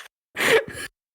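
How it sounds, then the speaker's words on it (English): A stressed woman gives two quick, sharp gasping breaths, close and fairly loud, each lasting a fraction of a second with a short pause between, and no talk over them. "I can hear the panicked breathing"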